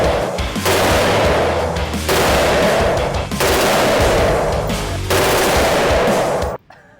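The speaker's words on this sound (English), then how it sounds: "hold the trigger for 1 second, and that's gonna do like a 3 or 4 round burst." A full-auto firearm fires in a few loud, rapid bursts, each a dense rattle of shots lasting over a second with short gaps between, close and harsh, ending abruptly.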